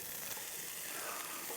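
A burger sizzles on campfire coals just after being flipped, a soft, continuous hiss heard close up with no talking.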